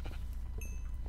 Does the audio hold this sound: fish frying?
no